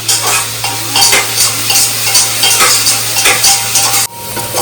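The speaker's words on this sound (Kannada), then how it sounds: "ನೀವು ನೋಡ್ತಾ ಇರ್ಬೋದು ಈರುಳ್ಳಿ ಆಲ್ಮೋಸ್ಟ್ ಬ್ರೌನಿಗೆ ಟರ್ನ್ ಆಗ್ತಾ ಇದೆ" Onions browning in a pan for nati-style chicken biryani give a loud, steady frying sizzle with repeated scraping stir strokes and a low hum beneath, cutting off sharply near the end.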